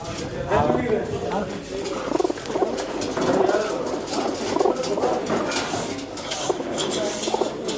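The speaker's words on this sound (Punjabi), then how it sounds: "ਰਾਜਨ ਵਾਲਿਆਂ ਚੋਂ ਪਿਓਰ ਕਬੂਤਰ" Pure Rajan-line pigeons coo repeatedly in soft, throaty rolls amid steady background chatter and rustling, close and continuous.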